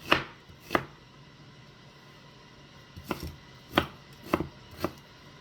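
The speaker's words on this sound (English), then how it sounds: "I'm cutting up my onion." Knife chopping an onion on a board for Jamaican fried rice: six crisp, close cuts, two early ones, a pause, then four more spaced out, each a sharp knock.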